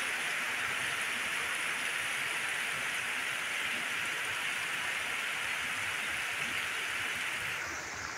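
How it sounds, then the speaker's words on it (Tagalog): Heavy rain pours steadily at a fishpond site, a dense, even hiss of falling water that stays loud and unbroken throughout, with no voices. "Talagang lumakas ang ulan."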